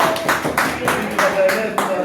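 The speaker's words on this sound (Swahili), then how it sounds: "tumpigie makofi tafadhali" Audience in a hospital cafeteria clapping for a film director, rhythmic group applause in pulses about every third of a second, with voices mixed in.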